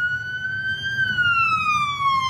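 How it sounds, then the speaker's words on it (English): A fire truck siren wails loud and close in a tornado-damaged town in Jacksboro, Texas, one long tone sliding slowly downward over a low road rumble, with no speech. "Hear the sirens? They're trying to get through."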